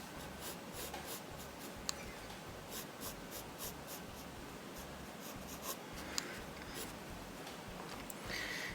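A pencil draws a smooth curve on paper, making quiet, close scratching strokes that run continuously with a couple of faint taps and no speech.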